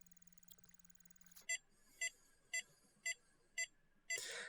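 ISDT FD-200 lipo battery discharger emitting a regular series of short, sharp electronic beeps, about one per second, fairly faint and alone in a quiet room, ending with a brief burst of noise.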